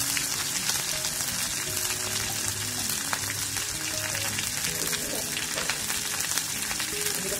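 Bay leaf and whole cumin seeds sizzle steadily in hot oil in a home kitchen, a continuous close crackling hiss with scattered pops and no talking.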